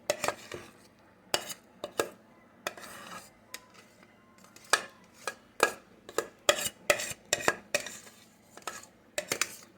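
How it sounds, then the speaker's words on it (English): A spoon stirs a chicken, broccoli and rice casserole in a pot, with irregular metallic scrapes and clinks in uneven bursts at close range and quiet pauses between them. "Stir all of this around."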